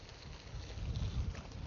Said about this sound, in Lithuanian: O vėjas tai gan stiprus.